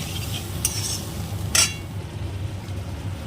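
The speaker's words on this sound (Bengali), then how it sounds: "মশলাটা ভালো করে কষিয়ে নেব" A spoon stirs spiced masala loosened with a little water in a pan for Bengali rohu fish curry, two short metallic clinks rising over a low, steady background hum.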